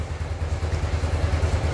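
A Yamaha Nouvo S scooter engine running nearby, a steady low rhythmic idle with mechanical clatter, heard alone without talk.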